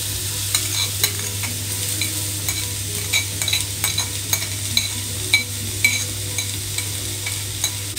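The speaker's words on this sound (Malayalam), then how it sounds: "സവാളയും ജിഞ്ചർ ഗാർലിക് പേസ്റ്റും നല്ലപോലെ ഇളക്കി കൊടുക്കുക." Chopped onions and ginger garlic paste sautéing in a pan, a steady close sizzle with regular light scrapes and taps of a spoon stirring throughout, over a low steady hum.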